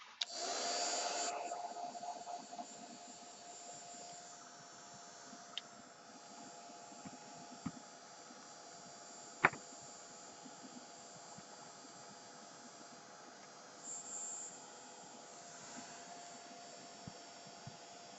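A handheld dryer blows a steady whooshing whine over glue on a mixed media art piece, louder at the start and then holding a constant hum, with a few small knocks and a sharp click midway.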